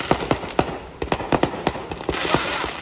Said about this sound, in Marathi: बघा मस्तपैकी फटाके पडतात